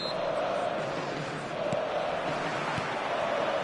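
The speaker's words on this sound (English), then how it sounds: "This place is living up to its reputation as one of the noisiest corners of the footballing world. No decibels spared in this collective chorus." A stadium crowd at a video game football match gives off a constant loud roar of chanting and murmur. It stays even and unbroken, a distant collective chorus with no single voices standing out.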